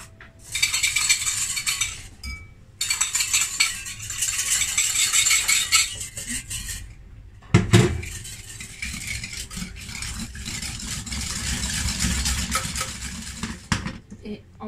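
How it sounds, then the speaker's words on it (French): Egg yolk whisked briskly in a bowl for chocolate mousse, a steady metallic scraping and rattling in long bursts with short pauses, fairly close and loud. "On va monter le jaune d'œuf, on va le blanchir."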